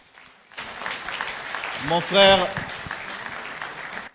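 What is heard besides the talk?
audience applause for models at jersey ceremony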